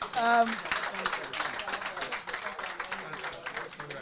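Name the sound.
applause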